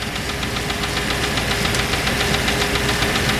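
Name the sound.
Land Rover Discovery II engine knocking while idling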